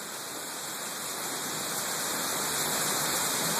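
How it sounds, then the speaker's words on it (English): Heavy rain pours down in a thunderstorm, a steady, dense broadband wash of water that swells slightly louder toward the end, with no voices over it. "Look at that water pouring down."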